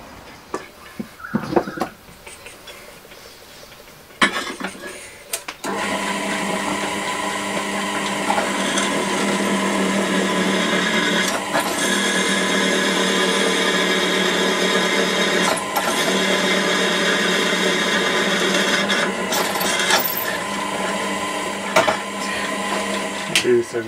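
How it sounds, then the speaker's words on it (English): A drill press whirs as it drills parts for a lawnmower carburetor swap, a steady motor hum running for many seconds after a few clunks of setup, with occasional knocks. "drill some things out on the drill press"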